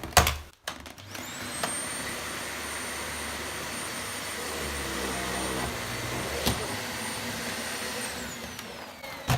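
A Dyson Ball Animal 2 vacuum cleaner working on a rug, a loud steady whine and roar that starts after a brief thump, holds constant for several seconds, then winds down near the end.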